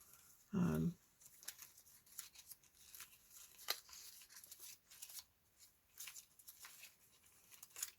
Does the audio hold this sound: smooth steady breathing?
no